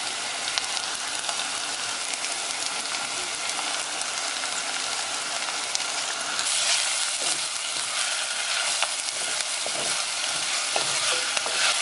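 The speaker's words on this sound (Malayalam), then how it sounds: "നമുക്കിതെല്ലാം കൂടി ഇനി നന്നായിട്ടൊന്ന് വഴറ്റാം." Onion, ginger, garlic and green chilli sauté in a pan for Kerala mutton curry: a loud, dense, continuous sizzle with occasional stirring scrapes, close up and without voices.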